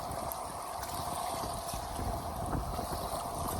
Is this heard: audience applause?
no